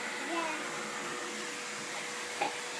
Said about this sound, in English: Do it with the vacuum cleaner.